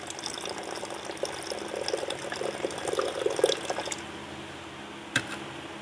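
About 400 ml of clean water is poured into a wet mixture of ash and filtered residue, a steady close splashing and trickling that swells, then stops, followed by a single sharp knock.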